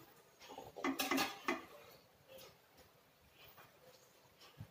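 A cooking pot being covered with its lid on a small burner, heard as a close cluster of metal clatters and clinks followed by quieter handling knocks.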